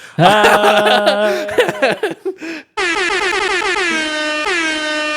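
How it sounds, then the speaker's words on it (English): Loud blasts of an air horn, first a choppy burst, then after a brief gap one long, sustained honk close by. "thank you, air horn guy"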